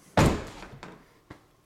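The door of a Ford Mustang GT500 shuts with one solid, close thunk, followed by two fainter clicks and taps as it settles.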